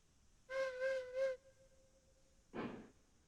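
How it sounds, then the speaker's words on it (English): Steam locomotive whistle in the train game Railroads Online: three short tonal toots in quick succession, then a long thinner held note, followed by a burst of hissing steam. "The whistle's so annoying, like I don't even want to use it."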